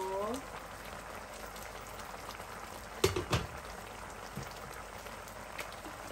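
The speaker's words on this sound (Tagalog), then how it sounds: "kumulo na siya ng ilang minuto" Ginataang alimasag, crab in coconut milk, bubbling steadily in a pot with a soft continuous seething, a few sharp clinks and knocks partway through.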